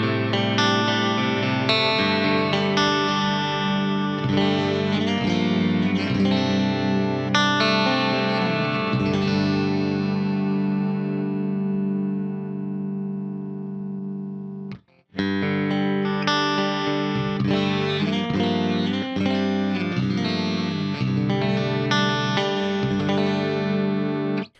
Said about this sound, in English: Let's just listen to some clean tones.